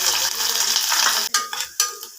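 Onions dropped into hot oil for a green peas kurma, a bright hissing sizzle that cuts out briefly and flares again in two short bursts, close and fairly loud.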